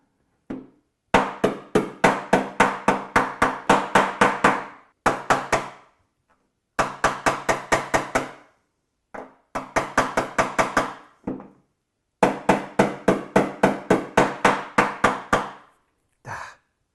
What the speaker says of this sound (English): That's one of the things with hammers. You have to have good hammer control.